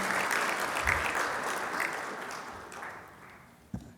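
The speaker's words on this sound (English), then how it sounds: "A big round of applause." An audience at a financial advice seminar gives a big round of applause as a committee member is welcomed to the stage, with steady clapping that gradually thins and fades.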